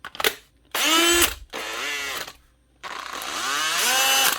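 A heavy-duty Makita brushed cordless drill with melted brush rings runs in three separate bursts of whining motor noise, each a second or more long with abrupt starts and stops, close and alone.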